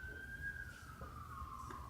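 A single siren tone glides slowly downward, distant and faint over low background rumble, with no talk over it.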